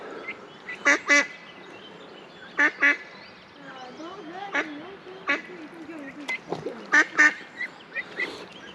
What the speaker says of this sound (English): Couple of ducks here, we've got a wee view of them here.